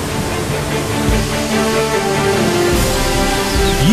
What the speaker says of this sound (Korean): 물소리가 시원한 걸 보니 폭포가 가까워졌나 봅니다.